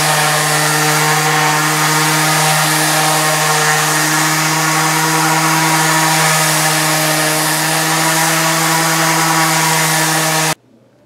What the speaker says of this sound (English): So let's get this other one sanded down